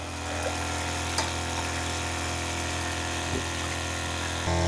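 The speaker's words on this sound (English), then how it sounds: "That's the pump, it's going." A Camplux 5L portable hot water heater's pump runs with a steady electric whine and low motor hum, close and constant, with a slight step up in level near the end.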